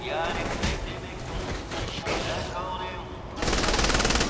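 Sniper gunfire in the video game Saints Row: The Third Remastered: several sharp, crackling shots and bursts in a busy game mix, ending in a louder, denser burst of noise.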